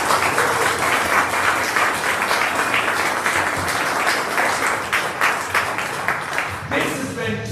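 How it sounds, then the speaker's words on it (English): A crowd applauds loudly and steadily at the end of a live Dungeons & Dragons show, dense clapping that carries on for several seconds before beginning to thin out near the end. "Let's give yourselves a big round of applause."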